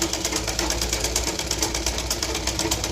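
A sewing machine runs steadily, stitching around the edges of a cross-cut blouse, its rapid, even needle rhythm close and loud throughout with no talking.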